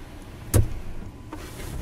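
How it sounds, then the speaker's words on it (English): The windshield wipers on a 1972 Volkswagen pickup run slowly across dry glass, making two soft thumping sweeps under a quiet idle. "Wipers work on it. A little slow right now since it's dry"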